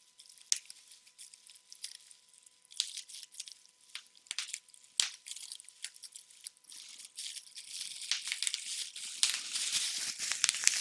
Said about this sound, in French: J'ai bien mérité une pause pour jouer avec le papier à bulles.